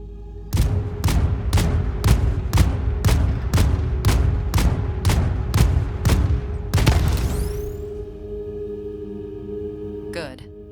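Rapid, evenly spaced gunshots crack out about twice a second in the video game Void Crew, blasting a container, then a heavier boom-like burst hits and a ringing, humming tail lingers.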